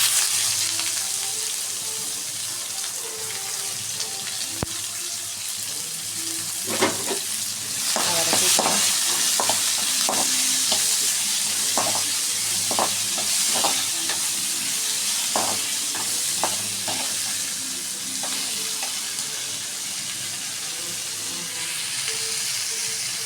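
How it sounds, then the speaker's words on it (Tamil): Onions and curry leaves sizzle steadily in hot oil after mustard seeds, a dense frying hiss running throughout with scattered sharp pops and crackles clustered in the middle, close and fairly loud with no talking. "வெங்காயம் கருவேப்பிலை போட்டுக்கலாம்"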